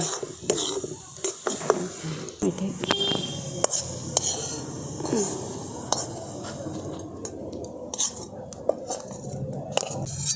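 A pot of thick coconut-milk filling for rice-flour patisapta handled on the stove, with close metallic clatters, spoon scrapes and pot knocks over a faint sizzle, plus a soft murmur of voice.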